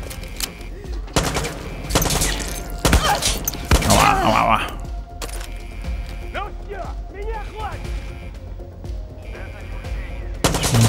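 Bursts of rapid gunfire in the video game Far Cry 6, loud rattling volleys separated by pauses, with a voice speaking between shots.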